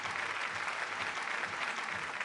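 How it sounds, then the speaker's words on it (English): An audience at an award ceremony gives a dense, continuous round of applause for a Lifetime Achievement Award at a green building summit, the clapping even and sustained without a break. "Can we have a huge round of applause?"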